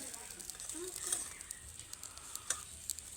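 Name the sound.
fish being flipped while dry-frying in a pan without oil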